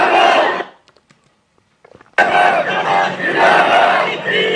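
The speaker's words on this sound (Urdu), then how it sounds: "آپ ذرا ایک اور کلپ دیکھیں اور یہ ذرا نعرے سنیں" A large crowd of children and young people chants slogans at a political rally in Hafizabad, loud rhythmic massed voices that cut off into near-silence for about a second, then burst back in just as loud and keep chanting.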